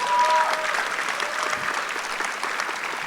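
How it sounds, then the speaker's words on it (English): A crowd claps for couples at a panchari melam arangettam: a short, moderately distant burst of applause that thins out toward the end. "Give them another round of applause."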